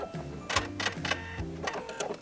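A sewing machine backstitches a dress seam in a few short, close mechanical bursts, stitching forward and back in quick stuttering runs.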